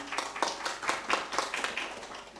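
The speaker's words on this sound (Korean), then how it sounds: "박수." A church congregation claps briefly in a quiet hall, a steady run of moderate, roomy claps lasting a couple of seconds.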